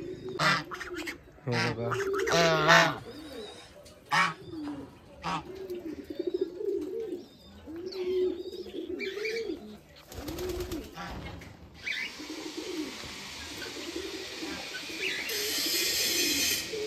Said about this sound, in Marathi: तर इथं वेगवेगळे पक्षी पण होते